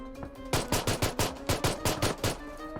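Rapid automatic gunfire from the video game PUBG Mobile, a burst of about ten evenly spaced sharp shots that dominates over a quiet game background.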